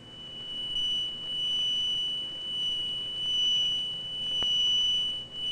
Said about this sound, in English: These two speakers send out pure sound waves of identical frequency and amplitude.